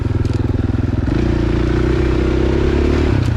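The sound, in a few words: dirt bike engine during alpine trail ride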